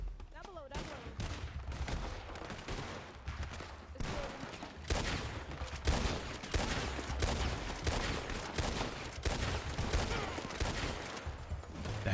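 Repeated gunfire from locals shooting in a video game, a steady barrage of shots lasting throughout at moderate distance, with game ambience and occasional voices mixed underneath.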